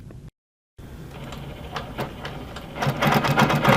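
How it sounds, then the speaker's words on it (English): A Handi Quilter Amara quilting machine runs in cruise mode, its needle starting after a brief silence and settling into a steady mechanical chatter that grows louder toward the end. "When I push play on the screen, the needle will immediately start moving"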